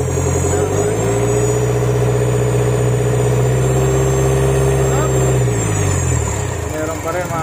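A Mitsubishi Montero engine revs up and holds high with the turbo blocked, a loud sustained roar with a steady high-pitched hiss riding over it before it drops back toward idle near the end.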